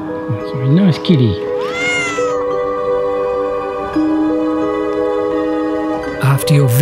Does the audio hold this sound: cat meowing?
yes